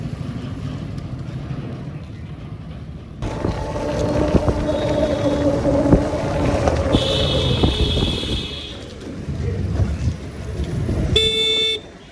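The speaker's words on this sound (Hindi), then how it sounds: "तो ट्रैफिक जाम" Busy street traffic heard from an Ola Electric scooter, with wind buffeting and engine noise, a couple of short car horn toots midway and a sharper horn blast near the end.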